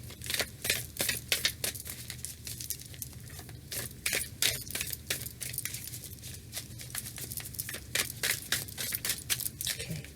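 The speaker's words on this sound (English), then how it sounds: "Got a good shuffle." Tarot cards being shuffled, a quiet, close run of crisp riffling and slapping card sounds in irregular bursts with no talking.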